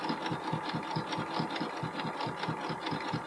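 A home sewing machine runs a wide zigzag stitch on a bralette, a steady rapid mechanical chatter of needle strokes, close and clear with no talking.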